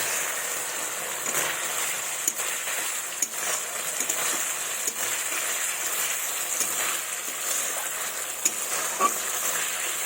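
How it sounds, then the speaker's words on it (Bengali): Chopped tomatoes hit a spice paste that is nearly done frying, giving a steady close sizzle and hiss with scattered splatter pops and the occasional scrape of a stirring spoon, for a vegetarian dish of drumsticks and sweet pumpkin. "এবার দিয়ে দেবো টমেটো কুচি।"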